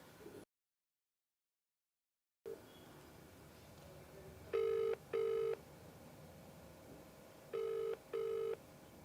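An outgoing telephone call rings back through the line, two pairs of short electronic ring tones with a pause between, clear and steady over faint line hiss after a brief silent gap.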